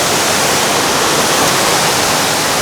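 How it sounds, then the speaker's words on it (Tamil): Seven Wells waterfall in Langkawi, Malaysia, roars as a steady, dense rush of falling water, loud and unbroken throughout with no voices. "உங்களுக்கு இந்த வாட்டர் ஃபால்ஸ் பிடிக்கும்னு நினைக்கிறேன்"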